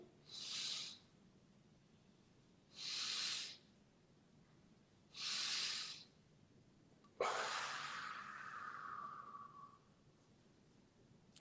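Three evenly spaced breathy inhalations, each about a second long, followed by a longer, sustained exhalation that fades away, as a staged breathing exercise for Covid-19 patients.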